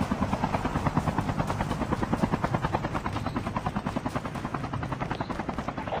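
Helicopter in a video game, a loud, steady rotor chop with dense rhythmic blade pulses and engine whine throughout, close and continuous with no talking.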